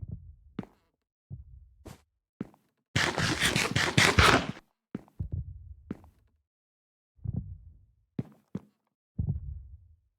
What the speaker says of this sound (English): It's only an eerie heartbeat.